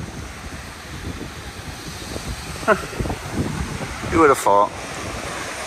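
Waves wash onto a beach in southern Portugal, a low rumbling surf mixed with gusty wind buffeting the microphone, while a person speaks briefly over it.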